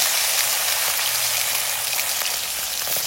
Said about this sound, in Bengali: বেশি তেলে ভাজা হচ্ছে মাছটা